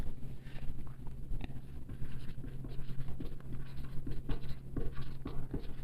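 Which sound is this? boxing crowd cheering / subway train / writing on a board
writing on a board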